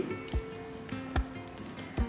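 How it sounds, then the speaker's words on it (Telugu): Whole spices and cut dried red chillies sputtering in hot oil for a tempering, with a steady faint sizzle broken by three sharp pops or stirring knocks spaced through the clip. "ఇలా పోపు దినుసులు కూడా వేగాక 2-3 ఎండుమిర్చి కట్ చేసుకొని వేసుకోండి"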